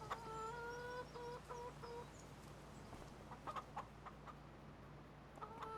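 Chickens in Farming Simulator 25 cluck in a farm coop, with several soft overlapping calls and a few sharper notes over a steady low hum, heard without any talk.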